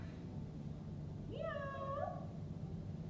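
A voice imitates a cat's meow during a children's yoga cat pose, one drawn-out rising and falling meow in the middle, fairly quiet, over low room hum.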